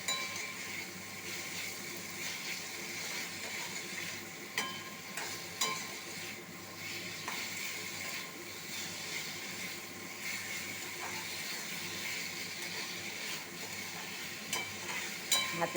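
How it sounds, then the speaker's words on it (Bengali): Okra frying with spices in a pan gives a steady soft sizzle throughout, with occasional light clinks and scrapes of stirring, fairly quiet and unbroken by talk. "এবার মশলার সাথে ভাজা হয়ে যাবে।"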